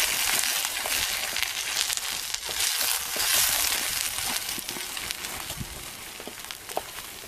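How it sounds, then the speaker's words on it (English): Sausage, potato and egg scramble sizzles in a camp pan while being stirred, giving a loud, continuous frying hiss with scraping and crackling bursts throughout. "I'm just going to stir it all in here."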